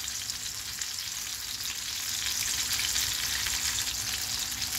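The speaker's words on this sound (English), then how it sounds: "So there the oil is heated well. So now my mom is adding the ball shaped kebabs." Ball-shaped keema kebabs frying in hot oil, a loud, steady, close crackling sizzle that holds evenly throughout with no voices.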